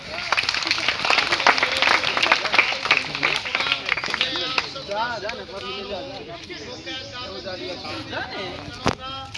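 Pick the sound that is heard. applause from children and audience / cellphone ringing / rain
applause from children and audience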